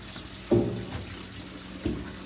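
Hot water runs from a kitchen tap to rinse a sink after butchering chicken thighs, with two splashing bursts as the flow hits the basin over a low steady hiss.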